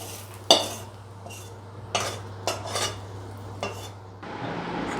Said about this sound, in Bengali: আলুর সাথে মাছের সাথে। মিশিয়ে নিচ্ছি এর মধ্যে।